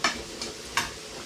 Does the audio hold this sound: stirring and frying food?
yes